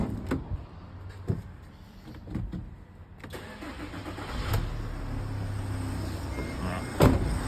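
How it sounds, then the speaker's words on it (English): A VW Crafter van engine cranks and catches partway through, then settles into a steady, moderately loud idle. Light clicks and handling noises are heard before the start. "Start the van up."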